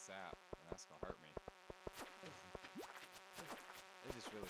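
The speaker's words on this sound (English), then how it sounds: "These bees." Buzzing bees in a video game, a steady insect drone running under scattered sharp clicks and short tonal blips, fairly close and moderately loud.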